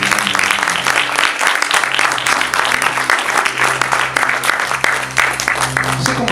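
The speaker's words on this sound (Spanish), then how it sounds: "Démosle un fuerte aplauso al Señor." Loud, sustained applause from a church congregation during a Spanish-language service, dense clapping filling the whole stretch with crowd voices mixed in.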